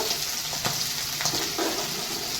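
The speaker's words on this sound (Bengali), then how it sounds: "এই ঘেরিগুলো আমি ছেড়ে দেবো আমার সিদ্ধ করা ছিল আগে" Boiled snails tipped into a frying pan, giving a steady close sizzle with stirring scrapes and small crackles, no voices.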